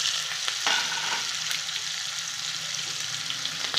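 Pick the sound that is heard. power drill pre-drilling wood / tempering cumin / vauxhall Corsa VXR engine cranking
tempering cumin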